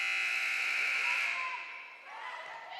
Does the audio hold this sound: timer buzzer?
yes